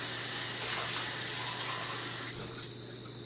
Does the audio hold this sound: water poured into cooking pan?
yes